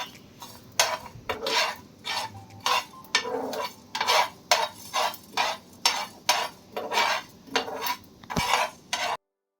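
Whole spices stirred on a hot tawa over low heat, with a steady run of about sixteen crisp metal scrapes and clinks at a regular rhythm, close and moderately loud, with no talk.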